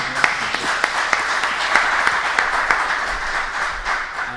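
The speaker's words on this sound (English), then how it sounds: "let's give a round of applause to Jaana." A room of conference attendees clapping after a presentation on pre-normative research for standards, a steady, fairly loud round of applause with a few sharper claps standing out.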